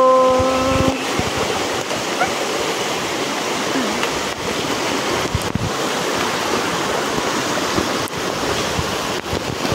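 Steady rushing water fills the scene, a broad roar like a fast stream, with gusty wind buffeting the microphone throughout.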